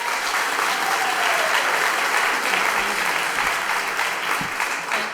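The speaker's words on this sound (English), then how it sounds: "I don't really want you to clap" Steady, loud applause from a crowd fills a Lowell city council chamber, an even wash of many hands clapping with no break throughout.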